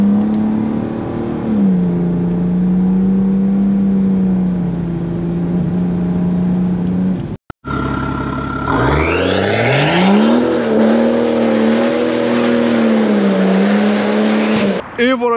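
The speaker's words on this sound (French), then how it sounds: "Et quand t'as le deuxième turbo qui s'enclenche... C'est ça, on sent bien la transition." A BMW 535d E60 diesel with an M5-style exhaust, stage 2, accelerating hard; the engine tone climbs, drops briefly, then surges again as the second turbo engages. The sound is loud and close, with people talking over parts of it.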